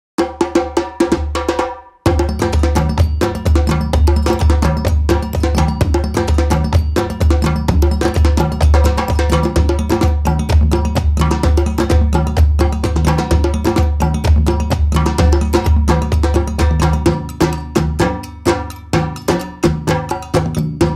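West African traditional rhythm loops with djembe drums and ringing bells play loud and busy, a steady interlocking groove after a short break near the start, with no voices.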